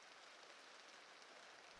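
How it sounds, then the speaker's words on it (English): Steady rain patters on the glass of a wooden window in a quiet room, a soft, even hiss with no breaks and no voices, held at a low level throughout. "Rain at the wooden window. Steady rain on the glass."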